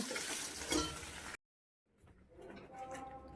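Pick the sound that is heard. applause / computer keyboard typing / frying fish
frying fish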